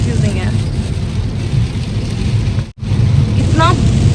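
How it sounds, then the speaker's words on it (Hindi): Heavy rain during a spell of very bad weather pours down as a loud, steady wash with a deep low rumble, cutting out briefly for a moment before returning just as strong. "इतना ज़्यादा बारिश हो चुकी है ना, इतनी ज़्यादा, मतलब इतना बुरा वेदर हो गया है इस टाइम पर।"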